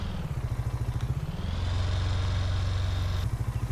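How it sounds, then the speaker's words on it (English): A single-cylinder petrol engine on a mixer in Farming Simulator 19 chugs along steadily, its low rhythmic putter rising in pitch and smoothing out as it revs up in the middle, then dropping back to a lumpy idle. "You can also hear the nice purr of the single cylinder petrol engine."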